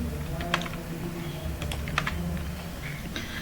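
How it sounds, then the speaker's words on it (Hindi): Keys tapped on a computer keyboard while operating Tally accounting software, a series of sharp, irregular clicks at close range over a steady low hum, with no voices. "अब इसमें हम Alt F1 प्रेस करेंगे"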